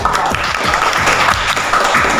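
Classroom applause from a group of students clapping together, a dense steady patter of many hands held at an even level for about two seconds with no talk over it.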